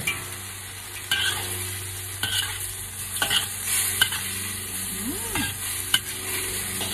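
Boiled spaghettini tossed with seafood in a hot pan, a constant frying sizzle broken by repeated scraping stirs and light knocks of the utensil, close and steady throughout.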